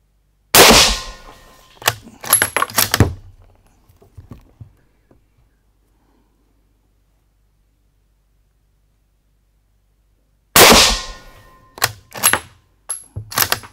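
Two bursts of sharp gunshot cracks from a Gebirgsjäger Karabiner G33/40 carbine fired at a 25-metre range, each burst a loud report with quick clattering echoes, separated by a long silent gap.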